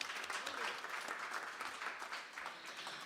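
Studio audience clapping at a live radio show broadcast, a fairly quiet, uneven patter of hands that swells and eases over a few seconds, heard slightly distant.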